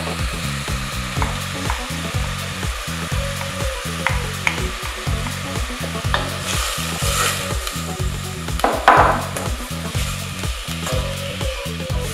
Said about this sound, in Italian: facciamola rosolare un pochino, aggiungiamo le carote